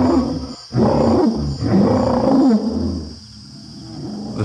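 An Allosaurus mating call sounds as a series of deep, close, loud roaring growls in two or three drawn-out bursts with rumbling low tones, then fading into quieter ambience.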